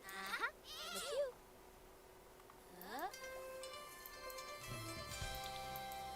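A cartoonish sheep in The Sims 4 bleats several times in quick, wavering calls, followed by soft game music.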